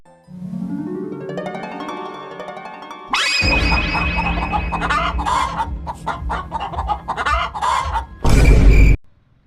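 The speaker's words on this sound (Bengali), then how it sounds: "এক রাতে মুরগির আওয়াজে বুড়ির ঘুম ভাঙে" Cartoon chickens clucking and squawking, loud and close, first as a drawn-out musical tone, then as a busy burst of agitated clucks and a brief loud flurry near the end.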